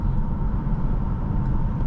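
The twin-turbo inline-six of a 2017 BMW X5 sDrive35i hums while driving, heard from inside the cabin as a steady low rumble with road noise and no sharp peaks.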